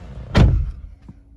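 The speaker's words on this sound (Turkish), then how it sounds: "Kapıyı kapattığımız zaman bakalım bize ne tepki verecek." A single solid thump of a Renault Zoe car door shutting close by, followed by a faint click a moment later.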